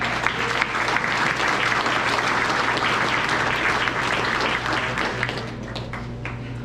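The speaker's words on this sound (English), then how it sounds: "Can we have one more round of applause for Mr." Sustained, dense applause from a large graduation ceremony audience at KSB, steady and loud throughout with a low hum beneath.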